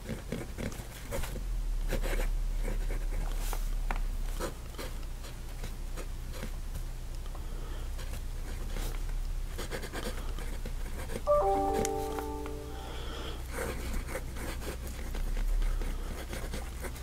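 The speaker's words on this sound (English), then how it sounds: "So we're going to write with this unposted." Nib of a LIY Xixia Mountain fountain pen, fine-labelled and held unposted, scratching across paper in a soft continuous patter with faint scratchy strokes over a steady low hum.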